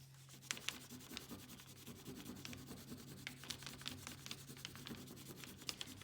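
Brown crayon scratched quickly back and forth over aluminum foil for a texture rubbing, a close, faint, steady rasping with small ticks, no talk.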